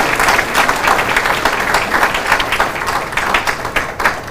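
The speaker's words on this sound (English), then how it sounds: "Let's give a round of applause for Dexter Richardson." Steady applause from a sizable crowd at a county business breakfast and scholarship award event, continuous clapping filling the space without a break.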